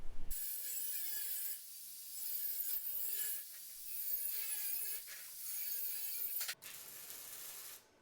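A length of 1.5-inch metal tube is cut with a steady, rasping saw noise that swells and dips in rhythmic strokes for several seconds, then stops abruptly near the end.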